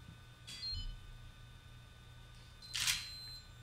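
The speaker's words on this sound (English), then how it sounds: "the system simply issues a shutter release command once every 10 seconds" A Nikon camera's shutter is fired by a ClapSnap remote control, giving two crisp mechanical clicks a couple of seconds apart, the second louder, against a quiet background.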